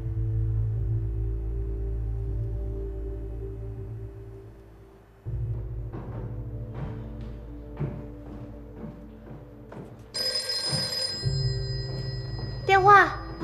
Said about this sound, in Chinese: 电话， 你接着。